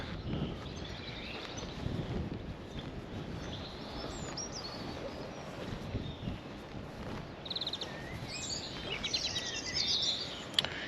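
Outdoor ambience in a churchyard graveyard with scattered high bird chirps and whistles, faint and intermittent over a steady rumble of wind or distant noise.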